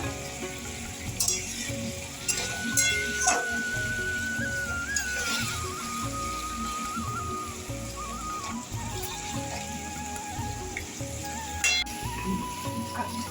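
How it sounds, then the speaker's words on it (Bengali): Mutton being stir-fried with spices and a splash of meat-boiling stock, a steady close sizzle with occasional stirring scrapes and clinks running throughout, plus a faint steady tone in the background. "আবার একটু মাংস সেদ্ধ করা জলটা দিয়ে আবার মশলা দিয়ে কষাবো।"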